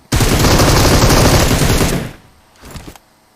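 PUBG Mobile gunfire: a loud, dense rapid-fire burst of about two seconds, then a fainter short burst after a pause, close and dominant with no talk.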